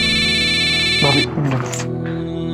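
A phone rings with a steady electronic tone that cuts off after about a second. Voices follow in the room.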